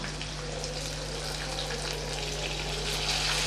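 Tomato paste sautés in a pan for fenugreek kuzhambu with a soft, steady sizzle and bubbling over a constant low hum. It stays fairly quiet and there is no talk.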